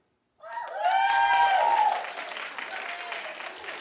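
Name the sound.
studio audience applause for a clap poll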